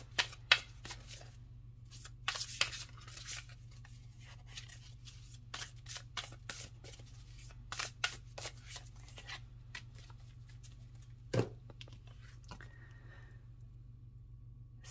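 Oracle cards are shuffled by hand in a steady run of soft, papery riffles and taps, close and fairly quiet, with no talking.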